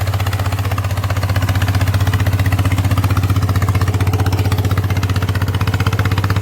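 A walking tractor working a rice paddy in second gear runs with a steady, loud, chugging engine drone that holds an even rhythm close by, with no speech.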